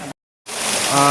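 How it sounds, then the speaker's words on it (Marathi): Steady monsoon rain hisses loudly during a Vat Purnima puja at home, broken by a short moment of silence, then returns and builds, with a faint tonal hum underneath. "पावसाने परत एकदा सुरुवात केलेली आहे"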